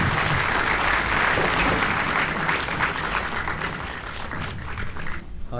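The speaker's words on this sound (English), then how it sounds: "give Mark a really well-deserved round of applause" An audience gives a loud, sustained round of applause for guest Mark Fleischer at an evening interview event, dense clapping filling the room and tapering slightly toward the end.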